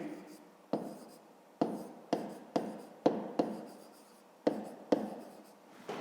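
A pen writes numbers and an answer in a notebook during a math exercise, with a series of sharp taps and short scratchy strokes repeating roughly every half second, close and quiet.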